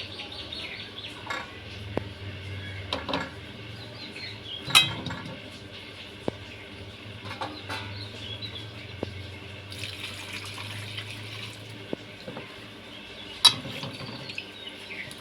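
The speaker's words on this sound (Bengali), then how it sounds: "পরিষ্কার করে কচলে কচলে ধুয়ে নিচ্ছি।" Raw mangoes washed by hand, rubbed and squeezed in water, with splashing and a running-tap rush, scattered sharp clinks, and birds chirping in the background.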